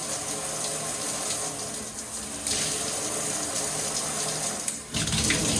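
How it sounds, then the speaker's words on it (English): Steady rushing water pours from a waterfall feature, a continuous loud gush like a running tap, with a brief dip near the end before the flow resumes. "And then you got the waterfall effect coming out there."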